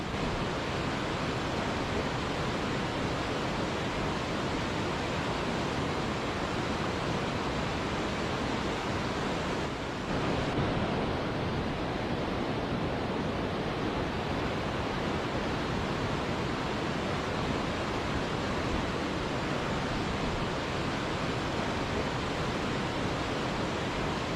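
Sajikot (Hazara) waterfall near Havelian, Abbottabad, pouring in a steady broadband roar of rushing water, constant and dense from start to end, with no speech.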